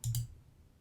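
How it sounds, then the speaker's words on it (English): A computer mouse click while closing an analytics widget: two quick, close-together clicks at the start, then quiet. "clicking the X icon in the top right-hand corner"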